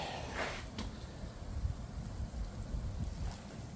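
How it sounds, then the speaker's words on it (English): Wind picks up outdoors in nasty weather, a steady low roar and microphone buffeting with a few brief higher gusts, fairly faint overall. "And the wind's picking up."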